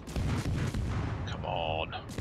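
Naval guns firing on a T-61 destroyer in World of Warships, a dense rumbling barrage of booming blasts through the first part, then a tonal whine, loud and close.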